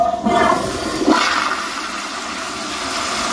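A Toto toilet with a vacuum breaker flushes, a close rushing surge of water that starts abruptly, then tapers into a softer swirling refill.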